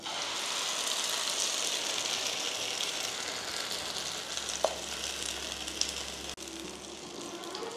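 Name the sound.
mashed green peas frying in hot mustard oil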